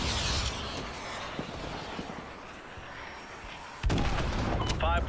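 Gunfire in Modern Warfare 2 Remastered: bursts of shots and distant booming fire under a radio-style voice, then a sharp loud volley of rapid shots toward the end.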